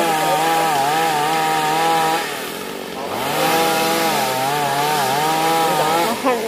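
A chainsaw runs steadily at high revs, cutting branches from a rubber tree, its loud continuous whine dipping briefly near the middle before surging again.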